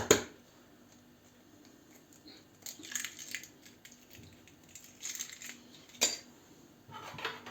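A spoon scrapes and clinks against a bowl in uneven strokes as a cheese, egg and green onion filling is stirred, close and fairly quiet.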